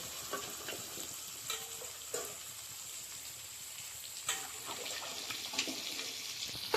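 Mutton curry being stirred in a pan, a soft continuous sizzle with a few scraping and clinking utensil strokes, close but fairly quiet throughout.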